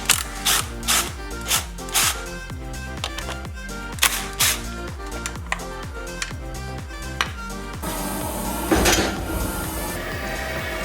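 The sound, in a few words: removing nuts and bolts from a car wiper arm mechanism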